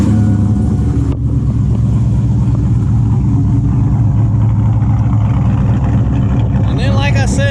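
A 2002 Chevrolet Silverado pickup with freshly changed 4.10 rear differential gears runs loud and close, its engine rumbling deeply with surging revs throughout.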